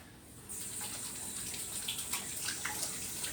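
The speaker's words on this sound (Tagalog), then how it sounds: "Hugas muna ang kamay." A tap starts running partway through, and hands are washed under the steady stream, splashing and rubbing audible in soft irregular bursts, with no voices.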